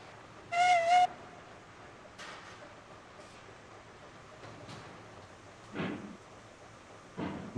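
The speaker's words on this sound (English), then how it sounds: "let's take the train around the loop" A steam train runs around a loop in the Railroads Online video game, giving a short two-burst whistle followed by quieter chuffs, hisses and rolling clanks over a low rumble.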